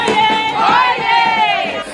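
A large, joyful crowd at a political rally in Parakou, Benin, with high sustained voices ululating and cheering together, loud and close.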